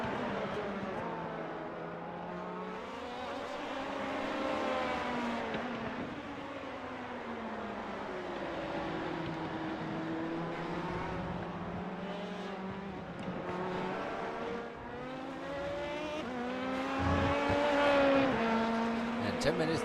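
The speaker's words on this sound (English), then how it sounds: "Vincent Wood getting ahead of Steven Martinez, outbraking him into turn 1" LMP2 and GTE race cars lapping Indianapolis Motor Speedway in the iRacing sim, engines whining and sweeping up and down in pitch through gear changes and braking, steady and moderately loud under race commentary.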